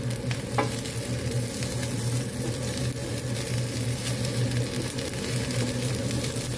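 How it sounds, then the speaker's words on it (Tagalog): Food being stirred in a frying pan during home lunch cooking, a steady close sizzle with faint scraping of the utensil running throughout, with no talking. "So haluin ko lang."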